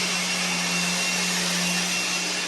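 A blower runs steadily and loudly throughout during log sanding and cleaning inside a round-log homestead great room in Montana, giving a continuous broadband roar with a constant low hum and no talk.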